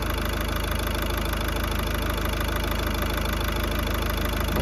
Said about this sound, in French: Il faut démarrer le moteur et rester entre 2500 et 3500 tours minute.